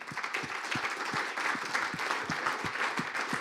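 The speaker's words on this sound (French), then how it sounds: "Donc, je pense qu'on peut les applaudir." An audience applauds start-up competition finalists at a retail academy final, a steady wash of many hands clapping throughout, fairly loud and continuous with no talk.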